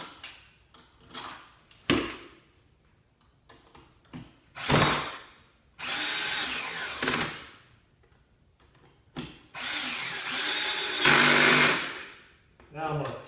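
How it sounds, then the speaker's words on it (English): Cordless electric screw gun set to a low torque limit drives screws into the plastic housing of an Earthwise snow thrower during assembly, giving several short bursts of whirring separated by pauses and light handling clicks, close by. "Now I have my electric screw gun here adjusted for torque, so it's not going to over torque in the plastic."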